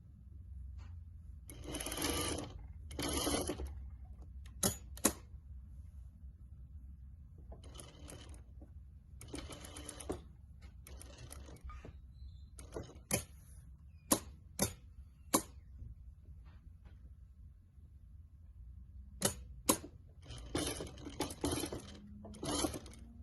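A sewing machine stitches a dress bodice seam with a back tack, running in short bursts separated by quiet pauses, with clicks and ticks of the mechanism between runs.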